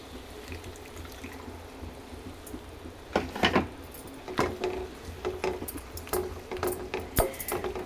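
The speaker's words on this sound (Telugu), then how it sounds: "పావు లీటర్ మొత్తం నీళ్ళు పోసేసాను." Water splashes and trickles into a grinder jar in a few uneven bursts, about a quarter litre, with light clinks in between, fairly close.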